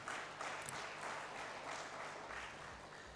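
An audience claps at the 9th National Conference on Communications, a faint, steady patter of many hands lasting a few seconds without speech.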